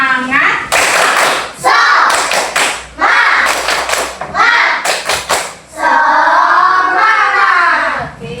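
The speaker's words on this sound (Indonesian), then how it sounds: "Yuk, tepuk semangat." A class of children performs a rhythmic clapping chant, loud bursts of patterned claps alternating with shouted chanting voices, close and energetic.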